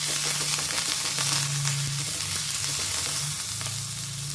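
Curry leaves added to hot oil with chillies, ginger and garlic sizzle loudly and continuously, a dense close frying hiss with a low steady hum beneath and occasional stirring, no voices.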